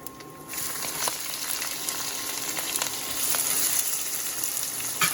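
Finely chopped onions frying in hot oil with cinnamon, cardamom and cumin for a spinach and paneer dish, a steady close sizzle with scattered crackles and pops, no talking.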